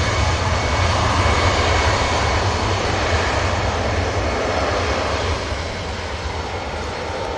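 Jet engines on a Brussels Airlines airliner spool up for takeoff at an airport, producing a loud, continuous roar that holds steady and then eases slightly near the end.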